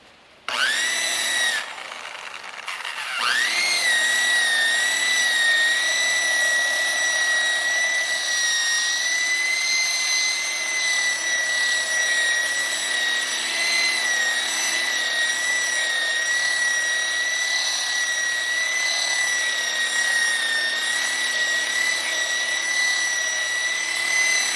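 A nylon brush restorer wheel spins up on a Craftsman power tool with a loud, steady high-pitched whine that holds evenly throughout after a short start.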